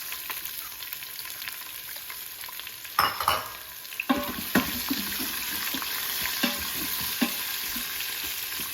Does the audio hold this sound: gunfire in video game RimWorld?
no